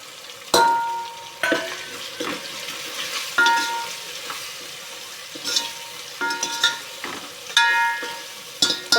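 Chicken biryani gravy, seasoned with turmeric and red chili, sizzles in a pan while a spoon scrapes and stirs it with repeated metallic clinks over a steady frying hiss.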